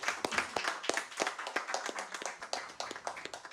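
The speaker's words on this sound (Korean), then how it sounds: "열띤 토론 펼쳐주신 여러분들께 뜨거운 격려의 박수 한 번 더" Applause for panelists at a National Assembly policy debate on establishing a maritime court, a modest crowd clapping with distinct individual claps audible, fairly quiet and somewhat sparse.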